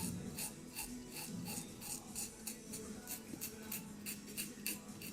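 A simple razor shaves a six-day beard, producing close, quiet rasping strokes in a regular rhythm of short scrapes, with no talking.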